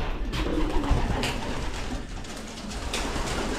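Pigeons in a breeder's loft give soft, low cooing calls that overlap in a steady murmur, close by with no talking.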